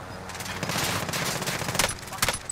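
Rapid bursts of FFAR rifle gunfire in the Warzone video game, loud and close, clustering toward the end amid a dense battle din.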